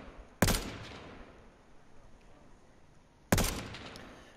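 Suppressive gunfire in H1Z1: two sharp, separate gunshots about three seconds apart, loud and close, each ringing out briefly over quiet background.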